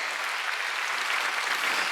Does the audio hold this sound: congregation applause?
yes